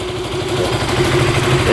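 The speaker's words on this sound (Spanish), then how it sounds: "La motocicleta está encendida." A Bajaj Pulsar motorcycle engine, a Pulsar 180 or NS160 fitted with an external MAP sensor, idles at a steady, close, fairly loud hum with an even low throb throughout.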